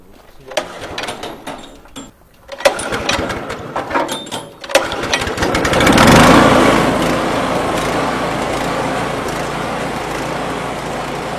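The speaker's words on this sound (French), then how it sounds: "on va les broyer dans cet outil-là. Donc on va faire un peu de bruit" A garden shredder grinds freshly cut small plant branches: scattered clattering handling noises come first, then the machine kicks in with a loud, sustained, close motor roar that holds to the end.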